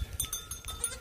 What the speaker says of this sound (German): Ganz dunkle, schöne Burenziege.